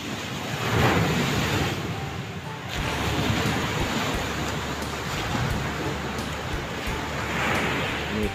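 Surf rolls continuously onto the beach at the Wedi Awu tourist spot on an afternoon, with steady broadband wash, a wave surge near the start and another toward the end, plus some wind noise on the microphone.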